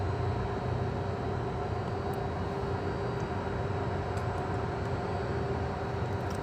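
A loud, steady roar from an airplane flying over close to an airport fills the whole stretch without letting up.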